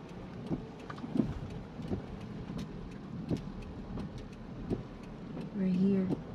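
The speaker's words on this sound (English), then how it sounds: "Still raining." Rain falling during a drive in a car on the road to a mountain resort in San Mateo, Rizal, a steady wash of rain and road noise inside the vehicle, with a brief hum near the end.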